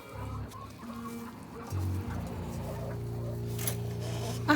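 Chickens clucking and murmuring just outside their closed coop on a homestead, several birds close by with low drawn-out clucks and short squawks, fairly quiet and steady.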